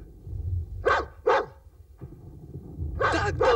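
A dog barks in two short pairs, loud and close, with a gap between the pairs and low rumbling noise underneath.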